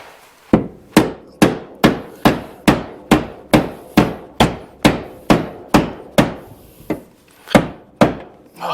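Metal header flange on a big-block C10 truck being beaten with a hammer, a close, loud series of about fifteen sharp strikes in an even rhythm, with one short gap near the end.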